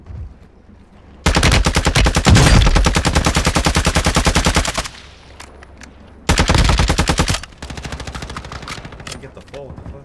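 Decoy grenade in a multiplayer shooter mimicking gunfire: two long bursts of rapid, loud automatic shots, with a brief lull between and fainter scattered shots trailing off afterward.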